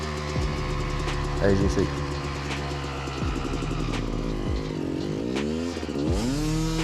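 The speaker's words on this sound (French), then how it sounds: "Ah, je mets du gaz." An enduro motorcycle engine revs hard in the forest while the bike is stuck, the pitch repeatedly surging and falling in loud close bursts, with someone speaking briefly over it.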